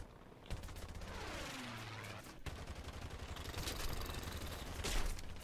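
Rapid machine gun bursts from a tail gunner aboard a giant hydroplane in a video game, steady rattling fire with sharp cracks running throughout at moderate level.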